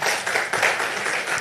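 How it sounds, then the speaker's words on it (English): Audience at a corporate banking economic outlook roundtable clapping for a speaker, a brief burst of steady applause from a crowd, fairly close and even. "A round of applause for her, please."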